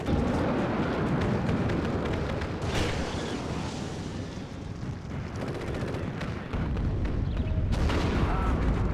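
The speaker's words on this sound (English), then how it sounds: "You guys are seeing some of the anti-tank weapons here. Some of the anti-tank infantry. Firing from this house." Anti-tank infantry weapons firing from a house in the war game Warno, heavy booming blasts and crackling gunfire layered into a loud, continuous battle din, with a voice talking over it.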